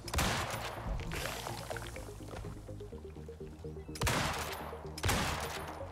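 Gunfire rings out in the survival video game Icarus during a fight with a cave worm, with a burst of shots at the start and two more sharp bursts near the end over softer game noise.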